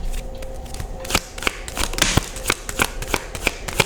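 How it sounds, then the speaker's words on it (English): Tarot cards are shuffled by hand in a series of crisp riffling bursts and quick flutters, close and fairly loud, repeating irregularly with no talking. "y'all saw me shuffle them cards, right?"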